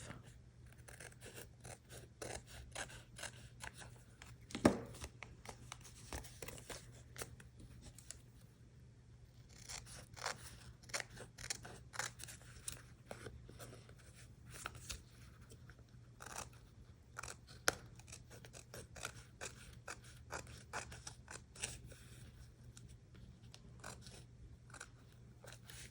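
Scissors snip through paper card for a birthday card, giving a long series of soft, close crisp cuts at an uneven pace, with quiet handling rustles between them.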